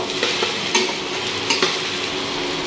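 Ginger, garlic and onion sizzle and crackle in hot oil in a wok while being stirred and pressed, a dense steady fry with periodic scraping strokes, close and loud.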